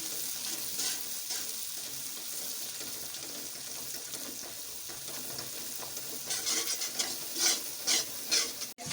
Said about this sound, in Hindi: अच्छी तरह इसको फ्राई करेंगे